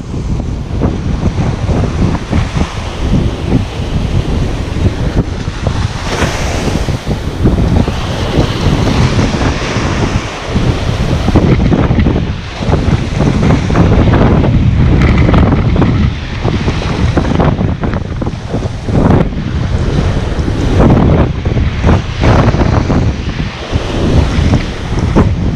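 Ocean surf breaks on a fishing beach at Punta Médanos as the tide ebbs, with continuous loud wind buffeting the microphone over the steady roar of the waves and no voices.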